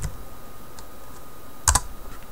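An application name being typed on a computer keyboard, with soft, scattered keystrokes close by and a quick pair of louder clicks near the end.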